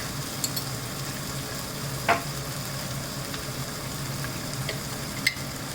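Turmeric is stirred into onions frying in a pan for brown bread upma, a continuous soft sizzle with a few brief scraping clinks from the utensil.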